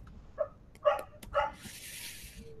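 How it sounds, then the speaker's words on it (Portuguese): A dog barks nearby in three short, sharp bursts, followed by a faint hissy rustle in a quiet room. "Tô me perdendo esse cachorro aqui latindo."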